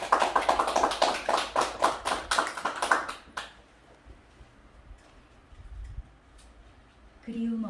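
Audience clapping to welcome a poetry reader at a Korean book forum gathering, a burst of hand claps for about three seconds that dies away into a quiet room with faint shuffling.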